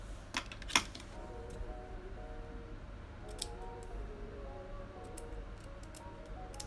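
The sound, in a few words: scissors cutting a wig's lace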